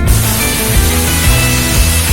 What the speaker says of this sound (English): A bit of compressed air,